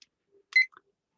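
A kitchen timer gives a single short electronic beep in otherwise near silence, faint and close by.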